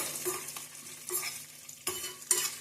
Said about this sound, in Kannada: ಮೀಡಿಯಮ್ ಉರಿಯಲ್ಲಿ ಇಟ್ಟು ಫ್ರೈ ಮಾಡ್ಕೊಳ್ಳಿ ಒಂದೆರಡು ನಿಮಿಷ ಫ್ರೈ ಆದರೆ ಸಾಕು